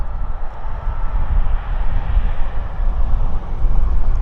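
A WestJet airliner rumbles at Vancouver International Airport, a steady broad roar of jet engines with deep low-end rumble, moderately loud and continuous without speech.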